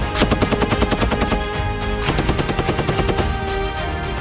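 Live-fire gunfire at a joint India-US military exercise in semi-desert terrain, rapid automatic bursts of overlapping shots in a dense, steady rattle, loud throughout.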